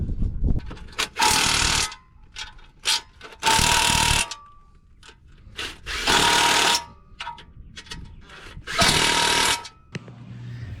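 Bursts of ratchet or tool noise tightening main bearing bolts on a 2015 Camaro engine, four loud stretches of a few seconds each with quieter clicks and handling sounds between them, close by.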